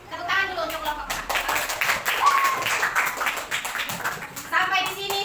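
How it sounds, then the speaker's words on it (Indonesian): A classroom of students applauds a presenting group, a dense wash of clapping mixed with children's chatter and a teacher's voice over it. "tepuk tangan dulu untuk kelompok 4"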